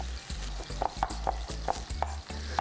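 Chicken sears in a hot pan before going into the oven, a steady close sizzle broken by several sharp clicks and taps of a utensil against the pan, with no voices.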